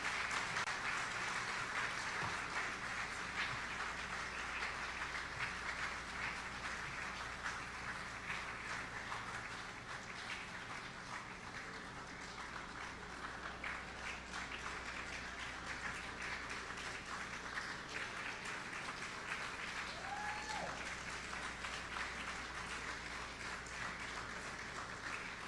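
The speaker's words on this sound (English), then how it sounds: "Ladies and gentlemen, a round of applause, please." Audience applause fills a ceremony hall at the opening of the Caribbean Broadcasting general assembly, greeting Team Antigua Island Girls, a steady dense clapping at even loudness throughout with no pause.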